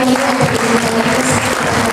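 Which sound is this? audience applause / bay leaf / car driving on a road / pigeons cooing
audience applause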